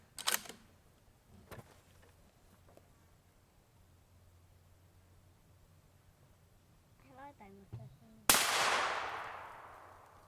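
A TC Compass 300 Win Mag rifle with a 24-inch barrel, fitted with a Yankee Hill Phantom M2 suppressor, fires one loud, sharp shot near the end, followed by a long fading echo. Quiet clicks and handling noises come first.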